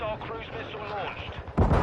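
A hostile cruise missile launch in the Modern Warfare 2 video game: a voice-like callout plays over background battle noise, then a sudden loud broadband blast erupts near the end.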